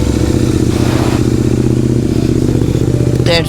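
A superbike's engine runs in gear at home during chain maintenance, a loud, close, rapid pulsing thrum with a metallic clatter, and a brief scrape or squeal near the end.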